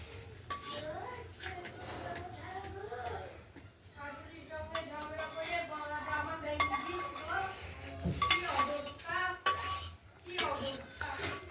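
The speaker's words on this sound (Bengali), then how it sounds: "এবার আমরা ওভেনটা নিমিয়ে বাঁধাকপিটা নামিয়ে ফেলবো" A cabbage curry with potatoes, peas and tomato is scooped from a pan onto a plate, with repeated metallic scrapes and clinks of a spoon against cookware while someone talks throughout.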